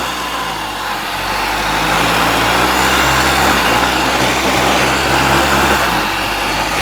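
A CG Titan motorcycle fitted with a Makita marble saw motor runs steadily and loudly, its buzzing engine drone holding constant throughout with no talk.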